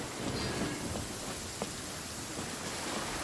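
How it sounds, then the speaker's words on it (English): Steady rain in Genshin Impact, a constant close hiss of falling drops that fills the clip evenly with no voices. "Oh, it raining!"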